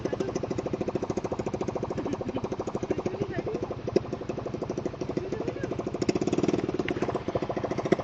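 A motorcycle with its exhaust removed, its engine having taken in water, runs with a rapid, rough pop-pop chugging like a motorboat, a loud and steady close-up putter with occasional louder bursts.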